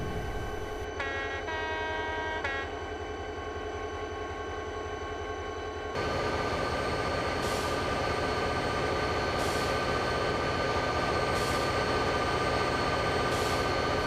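A train in the Trainz railway simulator game rumbles steadily along the rails, a brief high horn-like tone sounding early on, then a louder, fuller rolling roar with rhythmic clatter.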